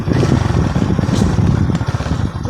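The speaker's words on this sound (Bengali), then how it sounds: "যে বাইক আমি চালাইছি বাজার সিটি হান্ড্রেড ছিল" A Bajaj CT 100 motorcycle is ridden with its small engine running loud and close, a continuous throbbing drone that holds steady before easing slightly at the end.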